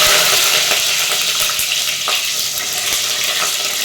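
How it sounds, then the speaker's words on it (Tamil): Garlic, shallots, curry leaves and tomato sauté in hot oil in a clay pot, giving a loud, steady, close sizzle with faint stirring scrapes throughout and no talking. "இப்போ பூண்டு சேர்த்துக்கலாம். சேர்த்து நல்லா வதக்கிக்கலாம்."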